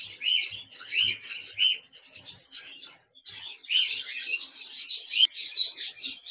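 A pair of Japanese budgerigars chatter in rapid, bright chirps and warbles, near and continuous with only brief pauses.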